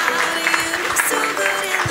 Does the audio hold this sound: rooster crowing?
no